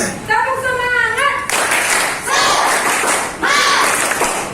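A sixth-grade class does a rhythmic spirit clap, with a group of voices chanting first and then loud bursts of many hands clapping together in a steady pattern, close and energetic.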